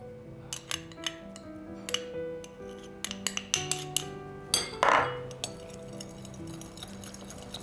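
Fattoush salad dressing of lemon juice, oil and garlic being mixed in a bowl: a string of bright clinks and scraping taps of a utensil against the dish, close and fairly sharp, one louder rubbing burst midway, no voices.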